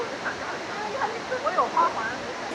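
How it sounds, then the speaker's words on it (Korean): A steady broad roar of falling water from Huangguoshu Waterfall in Guizhou, China fills the scene, constant and close, with faint chirps scattered over it. "폭포 소리 들리시나요?"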